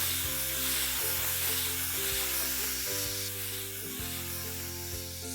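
Finely chopped onions sizzle steadily in a hot pan, a continuous close frying hiss over a low hum, with no talking.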